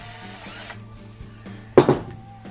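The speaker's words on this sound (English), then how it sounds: "to drill this hole in the bottom, all you have to do is slide it in the jig" A brief power drill burst whirs up for about a second, drilling a hole in a windmill sail hub part held in a jig, then trails off, following steady mechanical hum and faint tapping.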